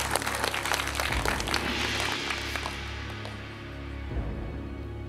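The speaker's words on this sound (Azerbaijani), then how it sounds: "İsim və 11 nəfəri biz alqışlayırıq." Studio audience applauding on a televised quiz show, a dense steady patter of clapping that runs throughout, fairly loud and close, with faint background noise beneath.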